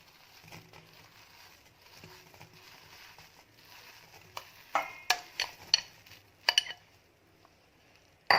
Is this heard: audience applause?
no